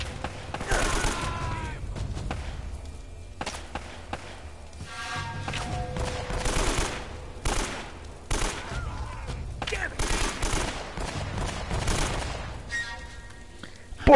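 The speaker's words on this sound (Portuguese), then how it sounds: "tu atirou na escada" Rapid gunfire bursts from the video game Uncharted: Drake's Fortune, loud repeated volleys and single shots crackling across the whole stretch with brief pauses between exchanges.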